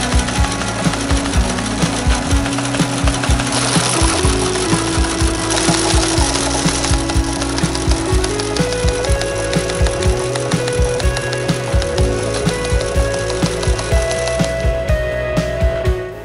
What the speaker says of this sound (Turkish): Bu cihaz bir çeşit otomatik daktilo ve belki de görebileceğiniz en karmaşık makinelerden biri.